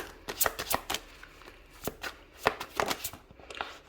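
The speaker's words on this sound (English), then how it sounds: "So I'm going to begin by shuffling for the Sagittarius Collective." Tarot cards being shuffled by hand: a run of crisp, close riffling and slapping bursts in uneven rhythm, fairly quiet and with no talking.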